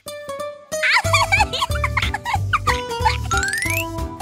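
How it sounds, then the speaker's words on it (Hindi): A duck quacks in short, nasal bursts repeated several times, fairly close and loud, with a rhythmic low thumping underneath. "ओलिवर नहीं मिला, सिर्फ बत्तख"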